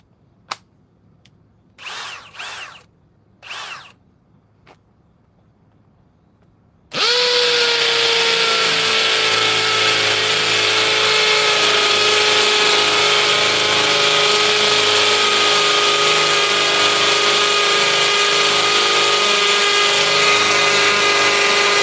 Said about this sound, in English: It's the same bit I always drill with. It's a 3/4 inch bit.